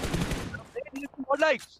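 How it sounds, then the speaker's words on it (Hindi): A quick burst of rapid gunfire in PUBG, sharp and loud at first, then dropping away as a commentator talks over it. "कुछ गोलियां दागी गई थी"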